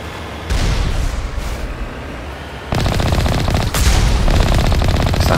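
Turret gunfire in Mass Effect, on the snowy world of Noveria: loud, sustained rapid automatic bursts that grow denser and harsher partway through, with continuous rattling shots and heavy impacts and no voices over them.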